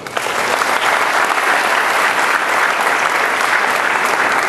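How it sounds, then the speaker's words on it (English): Sustained audience applause at a live hip-hop performance, dense and steady throughout, filling the room with no voices rising above it. "please applaud"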